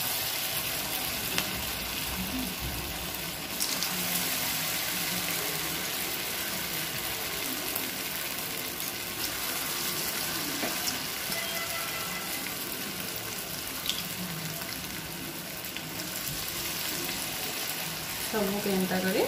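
Bottle gourd Manchurian balls fry in hot oil with a steady, dense sizzle throughout, with occasional stirring and scraping sounds on top and no voices.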